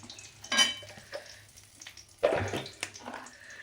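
Bori, sun-dried lentil dumplings, fry in hot oil in a pan with two loud bursts of sizzling and crackling, separated by a quieter hiss.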